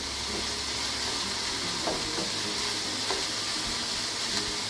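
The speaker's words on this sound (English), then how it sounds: "It is being steamed in its own juice." Tofu scramble steaming in its own juice in a pan gives a constant soft sizzle and hiss, close and even throughout, with a few faint clicks and stirring taps.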